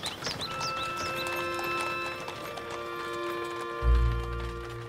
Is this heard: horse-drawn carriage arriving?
yes